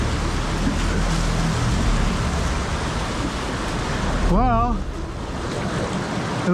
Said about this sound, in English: It looks like this is the waterfall, not what I just lined back there.